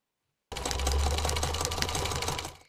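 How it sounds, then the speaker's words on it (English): A sewing machine starts up after a brief silence and runs steadily, a fast, even mechanical whir with rapid needle clatter, close and loud, continuing for about two seconds before easing off. "This is a sewing machine."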